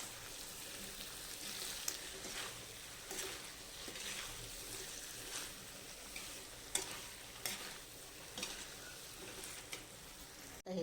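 Chole (chickpea curry) with kasuri methi and finely chopped coriander stirred in a pan, a steady close scraping and soft sizzle running throughout with occasional sharper spoon knocks, no talking.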